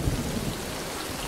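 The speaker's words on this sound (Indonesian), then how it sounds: "Di malam hari, hujan turun sangat deras." Heavy rain pours down at night in dense, steady hiss, with a low rumble of thunder near the start, loud and enveloping.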